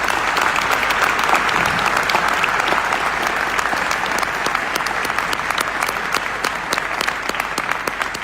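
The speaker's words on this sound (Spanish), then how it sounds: "le pido un fuerte aplauso para los chicos del Centro de Estudios Producción" Loud, sustained applause from an audience honouring young people from a study centre, dense clapping near and steady throughout, thinning slightly toward the end into more distinct individual claps.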